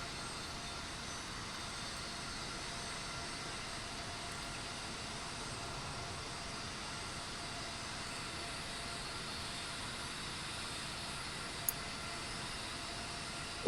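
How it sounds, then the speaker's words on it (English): Steady, broadband roar of a giant airplane's jet engines as it taxis toward the runway at night, constant and moderately distant throughout, with no talk. "The giant plane was about to take off."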